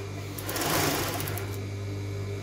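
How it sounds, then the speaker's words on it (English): A sewing machine stitching swimsuit fabric, running in one steady close whirring burst that swells briefly and then settles into a constant mechanical hum. "I will put wrong side with good side of the fabric, and I will sew all the way around."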